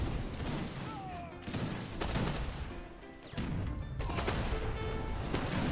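Volleys of musket and cannon fire crackle and crash in an Age of Empires 3 Wars of Liberty battle, dense rattling barrages with brief lulls, under a faint game soundscape and occasional speech.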